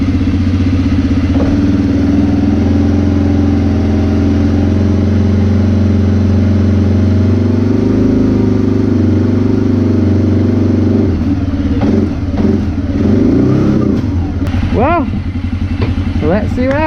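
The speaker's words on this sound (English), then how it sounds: "It sounds like she's idling good." A rebuilt 2006 Arctic Cat 400 ATV engine idles steadily and loud up close for the whole stretch, with someone talking over the running engine near the end.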